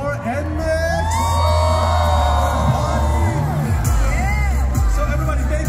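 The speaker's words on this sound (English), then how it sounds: "please give a big round of applause for NMIXX" Cheering, whoops and shouts from a large crowd at the NMIXX KCON LA popup talk, loud and sustained with excited yells rising and falling; a host speaks over it.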